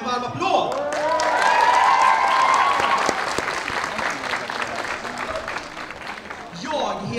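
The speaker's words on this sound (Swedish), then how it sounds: "Men kan inte ni välkomna mig med en varm applåd?" An audience at a Kulturnatten 2021 stage event applauds to welcome a comedian, with a full, dense wash of clapping and some cheering that builds, holds and then thins out toward the end.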